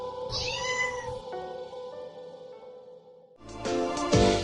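A cat gives a drawn-out, wavering meow up close, followed by a short pause and a brief scuffling rustle.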